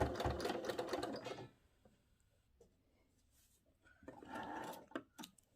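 A sewing machine stitches the seams of a patchwork cushion cover in a loud, steady run that stops after about a second and a half, followed by quiet handling noises and a second shorter burst of stitching.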